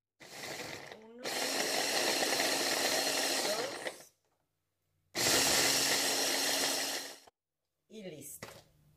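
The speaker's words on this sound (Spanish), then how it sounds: "Cortamos así nuestra coliflor en floretes y los ponemos en el procesador." A food processor whirs in two long bursts, with a shorter burst at the end, chopping cauliflower florets into rice-like bits; a voice speaks briefly between the runs.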